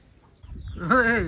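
A hen gives a short, rising cluck-like call at close range, following a brief moment of low rustling.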